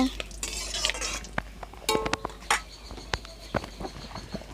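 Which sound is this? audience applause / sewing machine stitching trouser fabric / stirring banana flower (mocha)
stirring banana flower (mocha)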